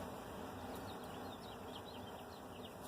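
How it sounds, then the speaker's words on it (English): Birds sing faintly in the distance outdoors on a freezing day, with thin, high chirps scattered over a steady hiss of open-air noise. "Do you hear the birds?"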